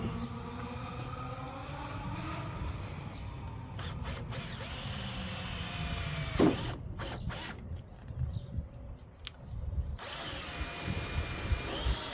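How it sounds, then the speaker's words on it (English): A power drill bores holes for mounting a tailgate ladder on a Ford F350 pickup. Its motor whines steadily and changes pitch as it bites into the metal, then pauses briefly and runs again near the mic. "I'm gonna get these holes drilled out"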